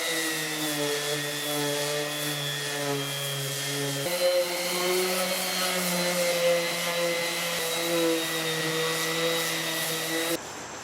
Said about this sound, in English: See what I can do with the sander,